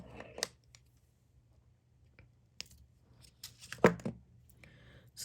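Jewelry wire cut after forming a loop for a double strand drop necklace: a few soft clicks and handling taps in a quiet room, then one sharp close snip near the end.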